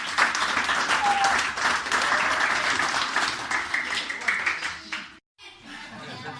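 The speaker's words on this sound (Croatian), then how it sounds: "Pa još jedan aplauz za njih." A crowd applauds at a beekeeping society's award ceremony, a loud, full burst of clapping that holds for about five seconds, then cuts out abruptly before softer clapping and room noise return.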